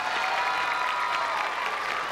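A studio audience at the Thai game show The Price Is Right applauds in a steady, even wash of clapping that holds at the same level throughout the short stretch.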